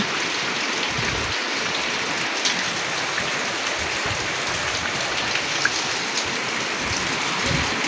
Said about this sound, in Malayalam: രാവിലെ തന്നെ നല്ല ചറ പറ പറന്ന് മഴ പെയ്തുകൊണ്ടേ ഇരിക്കുകയാണ്